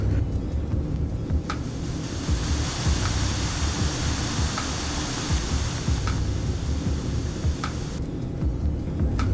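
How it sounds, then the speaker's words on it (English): A white noise generator on an ELinc ECM unit, played through powered speakers, gives a steady, loud broadband hiss with a low rumble underneath, running continuously for the whole stretch with no talking. "We do have a white noise generator that can be chosen."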